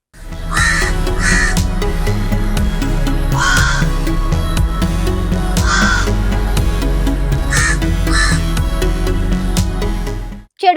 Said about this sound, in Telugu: కాకి అకస్మాత్తుగా గట్టిగట్టిగా అరిచినా